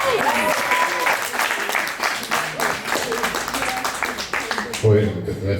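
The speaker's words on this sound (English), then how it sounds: "you need to give him a round of applause for producing that video" Audience applause at an open mic session, dense sustained clapping from a crowd for several seconds, with some voices mixed in near the end.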